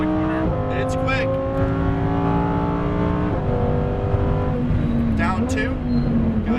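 A Lamborghini Huracan Performante on a track accelerates out of a corner, its engine tone climbing steadily through the revs with quick shifts, heard from inside the car over continuous road and wind noise.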